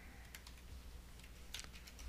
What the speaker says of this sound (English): And then I type in title.